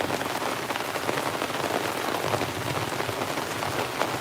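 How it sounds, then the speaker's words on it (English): Heavy rain pours steadily onto a canopy during outdoor gold sluicing, a dense, continuous hiss that stays loud and unbroken throughout, with no voices. "It's just the rain. And the rain's getting harder."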